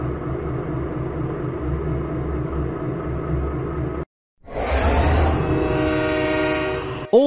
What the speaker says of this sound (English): Suddenly, Diesel had to stop because of track repairs